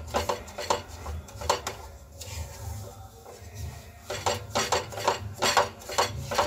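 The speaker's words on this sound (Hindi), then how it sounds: "जल्दी जल्दी चलाएंगे जो इसमें गांठें ना पड़ जाए।" Semolina being stirred quickly in a pan with a spoon for sooji ladoo, bursts of rapid scraping and clinking strokes in quick rhythm, briefly pausing midway before resuming, close and fairly loud.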